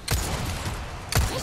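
Two sharp gunshots ring out in Resident Evil 4 Remake, about a second apart, loud and close, with a low boom in each blast and no voices.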